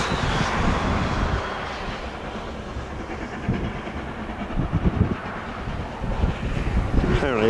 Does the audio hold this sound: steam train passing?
yes